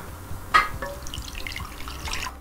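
Boiled milk is poured into a container, a steady liquid stream with a sharp splash at the start and a soft trickle after, close and moderately loud with no talking.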